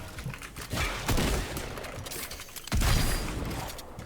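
Gunfire in the video game Fortnite, a dense busy mix of rapid shots and thumps during a solo match fight, with two louder bursts standing out near the start and middle, no talk over it.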